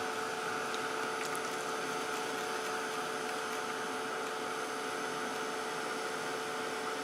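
A heat tool blows hot air onto a piece of metal scrap, making a steady, loud whooshing roar with a constant electric hum that holds unbroken throughout, with no talking.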